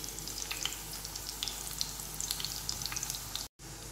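Korean chicken kebabs fry in a pan with a continuous crackling sizzle and scattered pops, cutting out for a split second near the end.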